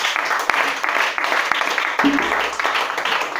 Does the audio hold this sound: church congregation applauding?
yes